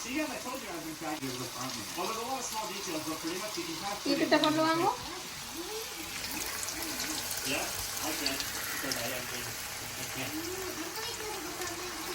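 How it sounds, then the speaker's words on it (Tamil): Chicken 65 pieces deep-frying in hot oil give a steady, moderate sizzle and bubbling throughout, with a louder burst of crackle midway and a voice talking over the cooking. "நான் வந்து இந்த சிக்கன் சிக்ஸ்டி ஃபைவை போட்டு பொரிக்க போகிறேன்"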